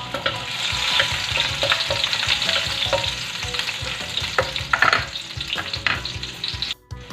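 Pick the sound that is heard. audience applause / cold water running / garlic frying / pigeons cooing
garlic frying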